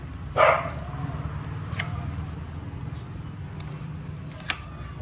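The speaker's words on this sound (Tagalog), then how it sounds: "Yan, mga aso ni Kiray" Dogs bark once, loud and near, then a couple of fainter yips or ticks follow over a steady low background hum.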